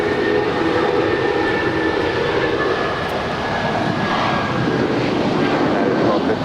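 Jet airliner engines roar steadily on a departure roll from runway 25 right at Los Angeles International Airport, a loud continuous rumble with a faint high whine, and no talk over it.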